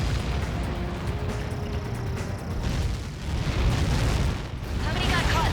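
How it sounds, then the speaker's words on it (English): Huge in-game blast from Helios projectiles striking the area in the Ace Combat 7 flight game, a loud sustained rumbling roar with layered booms, dense and continuous throughout. "How many got caught in that explosion?"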